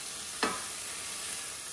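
Turmeric and chopped vegetables frying in a pan give a steady, faint sizzle, broken once by a short scrape of stirring.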